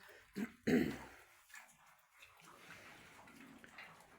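Pigs drink water in a pen, giving a couple of loud sloshing gulps near the start and then quieter lapping and splashing that continues at a low level.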